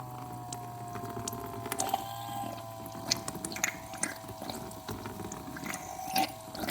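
Lian Li Galahad 240mm AIO cooler pump priming with water, a low steady mechanical hum with gurgling water and light clicks and drips, close and fairly quiet with no talking.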